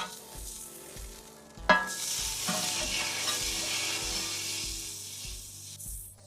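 A hamburger patty frying on a hot surface just after being flipped, a bright sustained sizzle swelling sharply at the turn and holding loud and close, with a soft rhythmic thump pulsing underneath.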